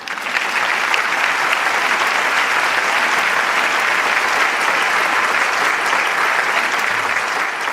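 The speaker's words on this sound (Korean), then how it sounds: "다시 한번 큰 박수 부탁드립니다" Loud, sustained applause from a large crowd at an award ceremony of the 2021 World YSP assembly fills the whole stretch, dense and even without letting up.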